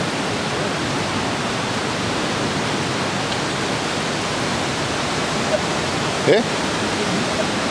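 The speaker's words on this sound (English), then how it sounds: "Must be a waterfall in here." Steady, loud rushing roar of a waterfall inside Smoo Cave at Durness, a constant broadband wash that fills the whole clip, with a brief voice near the end.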